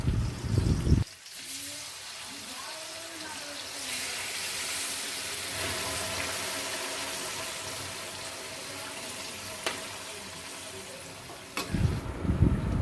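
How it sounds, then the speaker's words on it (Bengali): Finely chopped onion hits hot oil in a pan and sizzles with a loud, continuous hiss that holds steady, close up, with a brief stir or clatter at the start and end. "এবার ওই তেলেই ফোড়ন দেব সামান্য একটু পেঁয়াজ কুচি"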